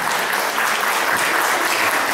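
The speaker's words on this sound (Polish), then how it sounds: "Gorące brawa, Joanna z Gdańska." Warm applause from a concert audience at a Eurosong show, steady dense clapping filling the hall without pause, no voices over it.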